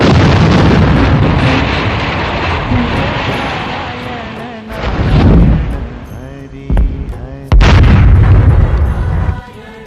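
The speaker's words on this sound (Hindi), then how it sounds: "दूर से कहीं विस्फोट की आवाजें आ रही हैं। शायद ये ऊपर ग्लेशियर टूट रहे हैं।" Deep, rumbling booms roll in from far away, a few separate low blasts swelling and fading over steady background noise.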